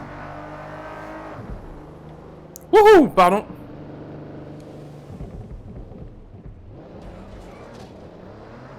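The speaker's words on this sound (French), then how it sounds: "Le bruit des voitures aussi" Cars in the video game Watch Dogs Legion: an engine drone that drops away, then quieter motor hums and rumbles, with a man briefly exclaiming over it.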